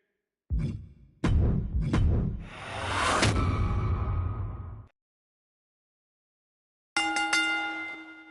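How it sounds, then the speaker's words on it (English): A wrestling ring bell in the WWE 2K26 video game clangs several times in quick succession over arena noise, followed later by a ringing metallic tone. "Ring the bell."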